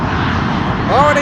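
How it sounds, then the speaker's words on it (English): A Boeing 777-200 airliner at San Francisco airport, a broad steady engine roar heard at a distance with a rising whine near the end, while a voice talks over it. "We got another 777."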